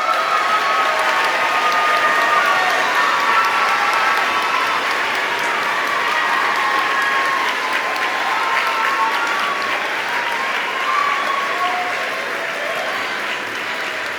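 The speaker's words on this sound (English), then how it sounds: "Can we give them a round of applause, please?" School concert audience applauding and cheering the seniors as they stand to be recognised, sustained loud clapping with whoops and cheers over a long stretch.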